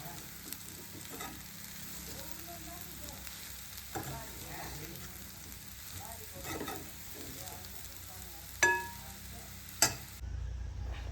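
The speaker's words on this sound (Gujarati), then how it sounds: "ડુંગળીનો વઘાર કરી લીધો." Onion tempering sizzles gently in a pan, a soft continuous frying hiss with occasional stirring clinks and knocks, fairly quiet and without talk.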